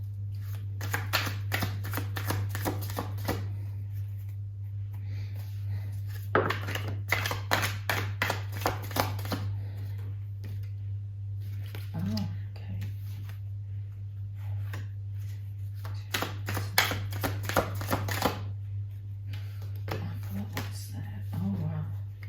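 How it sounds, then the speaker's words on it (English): Tarot cards being shuffled in repeated quick riffling bursts, close by, with pauses between and a steady low hum underneath. "So just give me a moment to shuffle the cards, please."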